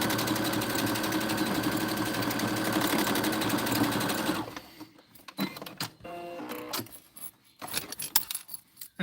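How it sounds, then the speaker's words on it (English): Sewing machine running a straight stitch through fabric for a keychain jacket holder: a loud, steady mechanical whir for about four seconds, then it stops and faint clicks and handling noises follow. "now we're going to go ahead and sew a straight stitch"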